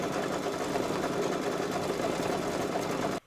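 An embroidery machine stitches an appliqué outline around a pumpkin, a steady, fast mechanical whirr of needle strokes running evenly at close range before stopping abruptly.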